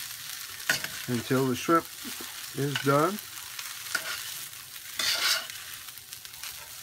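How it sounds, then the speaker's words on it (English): Shrimp fried rice being stirred in a hot pan, a steady sizzle with scraping strokes of a utensil, mostly under a voice talking close by. "So you just keep stirring it around"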